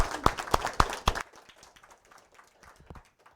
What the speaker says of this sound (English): and I applaud for Ashok.